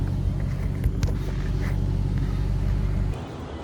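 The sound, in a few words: Dodge Challenger Scat Pack 392 revving during dyno pull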